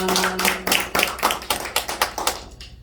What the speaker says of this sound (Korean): 우리 강사님께 우리 박수로 감사를 드리겠습니다